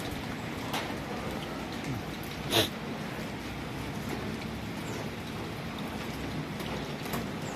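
Rain falling steadily outside a house, a soft continuous patter with no voices, one brief louder drip or splash near the middle.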